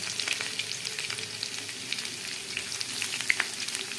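Chopped garlic and green chilli fry in hot oil after a nigella-seed tempering, giving a steady close crackling sizzle with scattered sharp pops and no talking.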